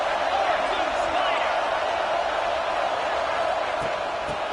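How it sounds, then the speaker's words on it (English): Stadium crowd cheering in the College Football 26 video game during a South Carolina dynasty season, a steady, dense roar of many voices holding constant throughout with a commentator talking over it. "This crowd ready to make its presence known."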